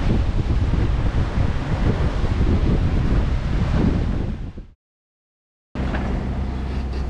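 Strong wind buffets the microphone on a sailing yacht crossing the Atlantic, a loud continuous roar with a surf-like wash, cutting to a brief silence before resuming slightly softer.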